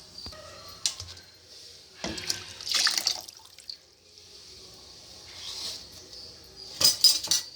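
Water swirled in a grinder jar to rinse out ground dal and poured into a pot of Andhra-style sambar: splashing, trickling pours and drips with light metallic clinks, close and moderately loud in a quiet kitchen.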